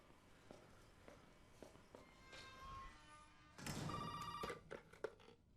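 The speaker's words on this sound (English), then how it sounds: "I feel like the phone's supposed to ring now." Telephone ringing inside the Resident Evil video game, a fairly faint electronic ring that swells after a few soft thumping footsteps, with no one talking over it.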